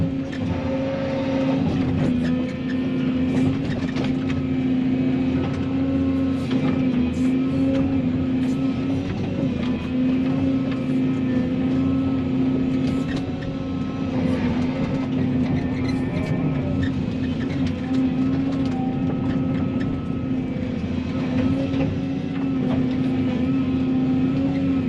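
A mower drones steadily through vegetation, a loud, continuous engine hum with a rough, buzzing texture and no pauses.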